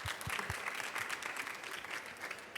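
Steady audience applause fills the room at a technology and creativity event, dense continuous clapping that holds at even loudness from start to finish with no talk over it.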